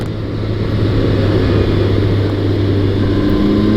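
A Can-Am Ryker three-wheeler with a 900cc engine runs at a steady, loud drone, heard close up without any talk.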